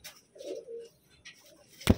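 A pigeon in a loft gives a soft, low coo in a couple of short phrases, close by, followed by a sharp wing flap or clap at the end.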